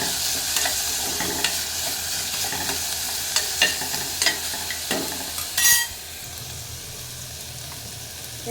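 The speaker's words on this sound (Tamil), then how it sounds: "நல்லா வதக்கிக்கலாம்" Onion and salt are sautéed and stirred in a frying pan, a continuous close sizzle broken by irregular scrapes and taps of a spoon against the pan, with the stirring stopping near the end.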